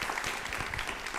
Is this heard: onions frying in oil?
no